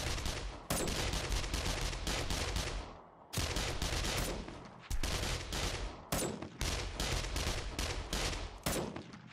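Automatic fire from a red-dot-sighted rifle in the game 7 Days to Die comes in loud, sustained bursts of rapid shots, broken by brief pauses between volleys.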